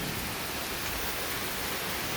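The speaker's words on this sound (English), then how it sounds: "It's pouring rain right now." Heavy summer rain pours in a dense, continuous hiss, loud and close, steady throughout with no voices.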